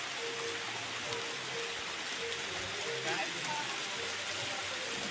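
Heavy rain pours steadily near the sea in Temburong, Brunei, a loud continuous hiss of drops on surfaces with no break, close and enveloping.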